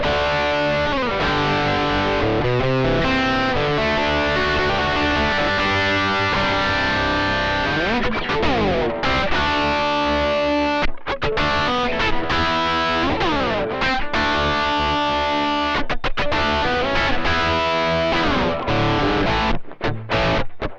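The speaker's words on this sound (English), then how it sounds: "Bridge pickup. Also, we could try some overdrive with this." Late-1980s Stratocaster played through its bridge pickup with overdrive into a solid-state modelling amp, giving a continuous distorted chord-and-riff passage with sustained notes and bends, loud and steady with no talking.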